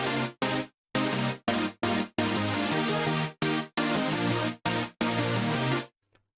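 Bright, dense supersaw synth chords from the Menta chords preset, dry with no processing, played in short choppy stabs and longer held chords before cutting to silence.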